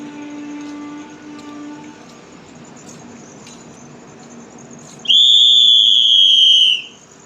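A railway guard's whistle signals departure at a station halt on an Indian express train, a single loud, piercing shrill blast of about two seconds following a quieter stretch of background hum.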